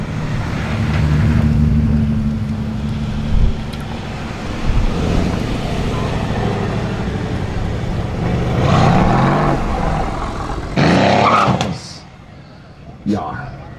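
A 740 hp turbocharged Mercedes-AMG C63S Estate and a BMW M2 Competition race on a drag strip. Engines drone and rise in pitch amid wind and roadside noise, with a commentator talking over them.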